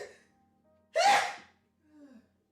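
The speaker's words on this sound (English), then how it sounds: "I'm gonna sneeze." A single sharp human sneeze bursts out close and loud, followed by a short breathy exhale, in a quiet room.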